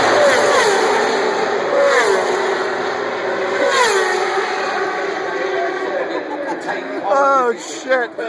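MotoGP motorcycles speed down the start-finish straight at the Indianapolis Grand Prix, engines whining and sweeping past in rising and falling passes beneath continuous excited commentary.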